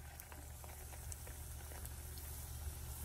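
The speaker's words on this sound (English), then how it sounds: "Now we're gonna fry it." Chickpea flour and egg pancake batter frying in a pan, a soft continuous sizzle and faint bubbling pops, quiet and steady with no talking.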